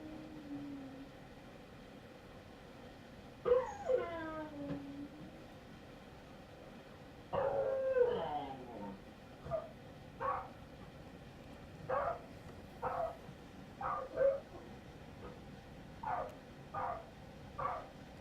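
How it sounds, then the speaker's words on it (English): A rabid dog howls and cries in drawn-out, wavering calls, followed by a steady series of short, evenly spaced yelps or cries, fairly close and loud against a low background hum. "It's a rabid dog symptom. It's very aggressive and characteristic howling,"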